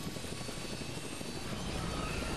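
A helicopter flying in the Dead Island 2 video game, a steady dense rotor and engine drone that stays constant and fairly distant throughout, with no voices.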